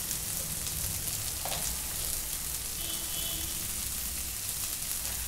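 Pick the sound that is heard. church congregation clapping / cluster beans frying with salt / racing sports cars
cluster beans frying with salt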